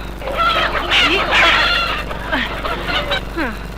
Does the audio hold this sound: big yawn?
no